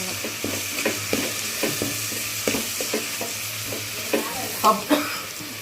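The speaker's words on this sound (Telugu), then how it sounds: "టమాటాలు మగ్గేంత వరకు బాగా తిప్పుకొని మోత పెట్టుకోండి" Tomatoes cooking down with salt in a pan, stirred in a regular rhythm of scraping strokes over a constant close sizzle, with a couple of louder clanks near the end.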